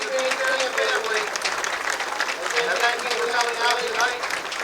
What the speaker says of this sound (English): And they're going to have a round of applause here for the Debo family.